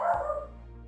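A single close, loud bark from a dog rings out briefly and fades, with no talking around it.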